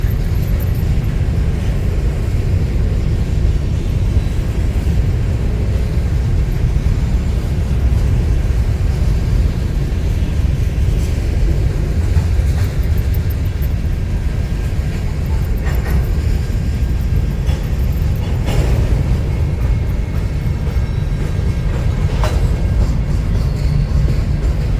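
A train rolls steadily past nearby in Galesburg, a continuous heavy low rumble and clatter of railcars holding at constant loudness from start to finish, with no talk over it.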